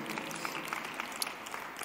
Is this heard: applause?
yes